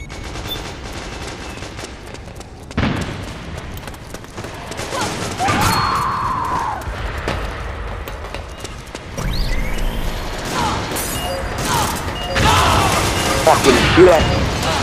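Explosions and gunfire in the online shooter game Metal Gear Online, with loud bursts and cracks scattered throughout amid continuous battle noise and voices talking.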